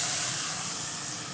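Tap water poured into a hot wok, a brief loud burst of steady hissing steam that holds for just over a second.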